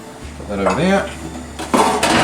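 A utensil stirring instant meat sauce for lasagna in a pot: close, loud metallic scraping and clinking, with a brief ringing scrape and then steadier scraping near the end.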